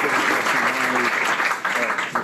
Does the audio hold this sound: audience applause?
yes